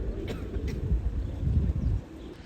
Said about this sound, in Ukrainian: Дивіться, яка наша тут голубина зграє. А тут голубі у нас завжди багатько-багатько.